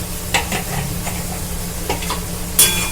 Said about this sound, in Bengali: এবার এটা একটু কষতে হবে মশলাটা পেঁয়াজের সঙ্গে